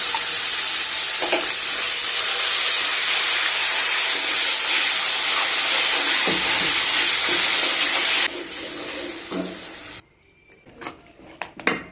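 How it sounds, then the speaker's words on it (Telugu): Raw tamarind chutney paste hits hot tempering oil in a pan and sizzles loudly and steadily, with some stirring, then drops off sharply and fades into quieter scattered clinks near the end. "మనం మిక్సీకి వేసుకున్న తొక్కుని వేసి స్టవ్ ఆఫ్ చేసుకోవాలండి"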